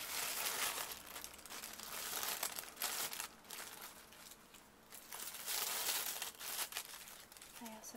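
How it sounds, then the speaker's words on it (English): Tissue paper being handled and cut with scissors, a steady close crinkling and rustling with soft snips across the whole stretch, paper noise rising and falling in loudness. "And now I'm gonna cut some tissue paper."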